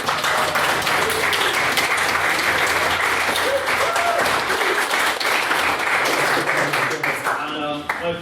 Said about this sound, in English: If I can ask, sorry, for a second round of applause for Mr.